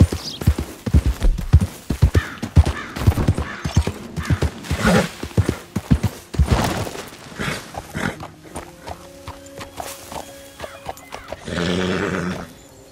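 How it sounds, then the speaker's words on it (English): Video game horse hooves clip-clop in a quick, uneven rhythm close by, then a loud whinny and snorting breaths follow, with no talking over them. "Where's my horse?"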